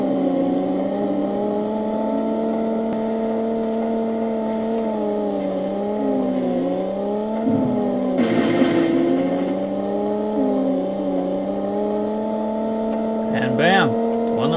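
Engine drone from the racing game Pod played on an IBM PC 300GL, a steady tonal car engine whine with pitch wobbling as it accelerates and shifts, a brief crash-like burst midway, and a few swooping tones near the end.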